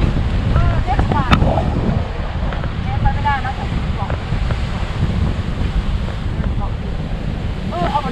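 Waves wash steadily onto a beach on Koh Chang, a continuous rushing surf buffeted by wind noise on the microphone, with brief chirps and a few faint voices in the background.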